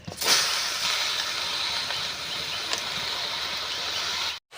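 Arum stalks and leaves dropped into a hot dry wok with no oil or water, a loud continuous sizzling hiss that starts abruptly and holds steady before cutting off, close up and alone.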